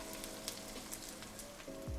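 Ginger sizzles in hot oil with the onions for a fish head curry, a faint, steady crackle with a few sharper pops, heard close with no speech.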